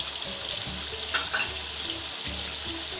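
Ground spices, turmeric, crushed chilli, cumin and coriander, frying with chicken liver in a pan, a constant close sizzle with a couple of sharp spoon scrapes and low hum underneath.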